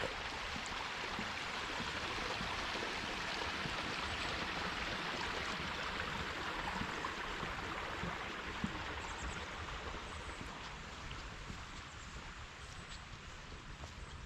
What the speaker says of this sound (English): We have a nice crossing here over McDonald Creek.